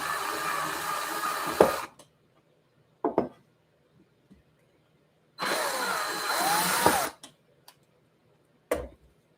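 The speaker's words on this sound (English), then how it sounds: "So we'll take the drill." A power drill whirs in two bursts, about two seconds each, separated by quiet gaps with a few sharp clicks and knocks.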